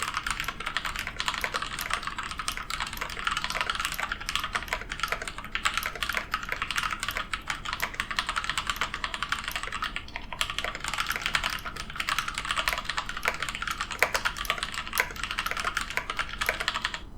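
Rapid, continuous typing on a DSI modular mechanical keyboard with an unfilled plastic case, the clacky keystrokes hollow and fairly loud, with a steady rhythm and brief pauses, no voices.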